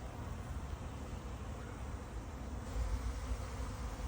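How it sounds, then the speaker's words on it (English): Honeybees buzz in a dense, steady drone around a hive just before swarming, close and continuous, with the hum growing slightly louder toward the end. "There's a lot more noise. And you're seeing lots of bees starting to fly."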